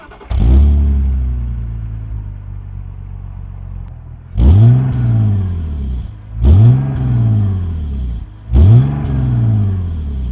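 A 231-horsepower sports car engine revs hard four times, each sharp rise in pitch followed by a falling burble and settling idle, loud and close.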